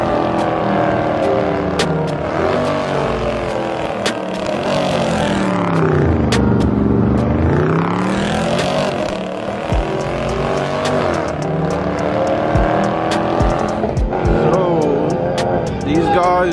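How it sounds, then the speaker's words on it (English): Loud race car engine revving hard as it speeds over a speed bump at a car meet, the roar rising and falling with a sweeping pitch change, close by and continuous. "Just raced over the speed bump"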